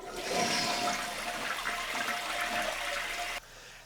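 A household toilet given a test flush after a new flapper is fitted, a loud continuous rushing and gurgling of water draining for about three seconds before cutting off abruptly to quiet refill hiss.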